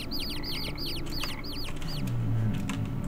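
A chicken in the Viking survival video game Niffelheim clucks repeatedly in quick bursts, a series of bright close clucks over a low background hum, with no talk.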